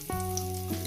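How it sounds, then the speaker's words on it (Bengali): Small-cut potatoes fry in oil in a pan with bay leaves, giving a steady, close sizzle with no voices. "2 মিনিট ভেজে নেবো আলুগুলো।"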